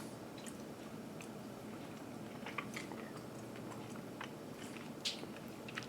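Someone chewing small, fibrous MRE bacon pieces up close, soft moist bites and squishy mastication repeating irregularly over quiet background, faint overall, no talking.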